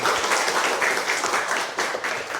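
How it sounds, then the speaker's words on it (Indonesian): A crowd applauds steadily, many hands clapping loudly and continuously at close range, with slight swells in intensity. "Tepuk tangan dulu kita semua"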